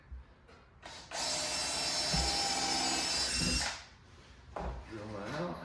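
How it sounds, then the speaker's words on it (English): A power drill bores into a plastic IBC tote, a loud whining grind lasting about two and a half seconds, with brief handling noises and speech around it. "Drill that out."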